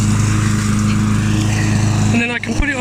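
Mountfield M4 lawn mower engine running loud and close with a steady droning hum, while someone talks over it throughout.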